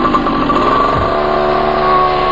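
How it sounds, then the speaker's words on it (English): Engine of a motorized hang glider in Colombia, a steady loud droning buzz with a sustained tonal whine, close and continuous throughout with no talk. "This is an engine-powered hang glider"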